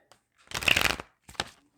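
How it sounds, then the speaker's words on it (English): Tarot cards are shuffled by hand in two close bursts, a longer riffling flutter followed by a brief quick second riffle, with quiet pauses around them. "They really don't want to shuffle these cards."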